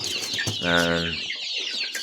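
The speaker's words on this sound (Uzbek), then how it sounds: "Andijon qora jo'jalarimiz bor" Andijan black chickens cluck close by, one drawn-out call standing out, with other short clucks and chick peeps around it.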